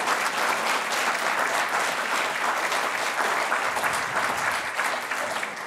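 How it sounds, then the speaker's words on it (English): An audience at an author talk applauds a woman, sustained and fairly loud clapping from a full room that holds steady throughout without fading. "Can we applaud the lady?"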